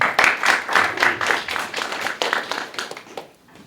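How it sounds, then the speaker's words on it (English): A small audience claps at a Mauritanian community gathering in Columbus, Ohio, with distinct rhythmic hand claps that fade out toward the end. "Give him a round of applause."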